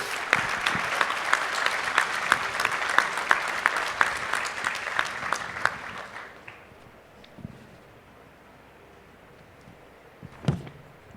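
Applause from a panel audience at a petrochemical forum, brisk dense clapping for about six seconds that stops abruptly, leaving quiet room noise with a few scattered bumps.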